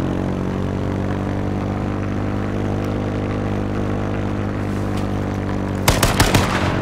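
A steady loud droning engine hum fills the game scene, then a burst of rapid gunfire crackles in near the end, close and sharp over the drone.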